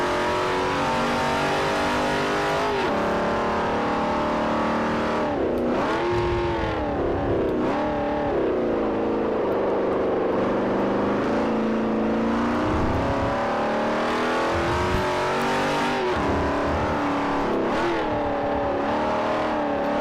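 A race car engine in the video game Forza Motorsport 4 on a Class B international tour, revving high and steady, dropping and climbing through repeated gear shifts and braking for corners, loud and continuous throughout.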